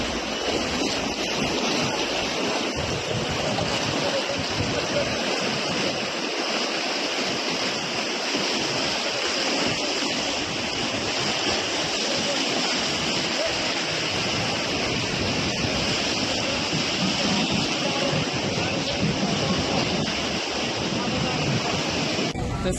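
Water released from Veer dam at 62,000 cusecs roars into the Nira river in a loud, continuous, broadband rush that never lets up, with some wind buffeting the microphone.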